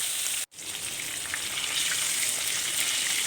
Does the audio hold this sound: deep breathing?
no